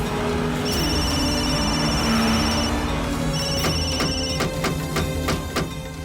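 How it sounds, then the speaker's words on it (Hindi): A phone rings with a repeating electronic tone, loud and close, the pattern pausing briefly then starting again with rapid chiming pulses. "जल्दी फोन उठाओ"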